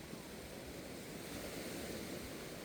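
Small Pacific Ocean waves at Playa Ventanas beach in Costa Rica, a faint, continuous wash of surf with no distinct breaks.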